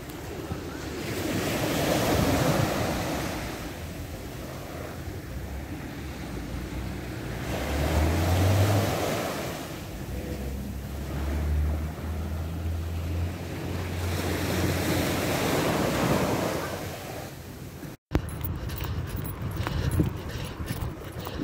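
Ocean waves and surf breaking on the Atlantic shore at Cap Ferret, a steady roaring wash that swells and recedes in broad surges, loud and close with heavy wind buffeting the microphone and no talk.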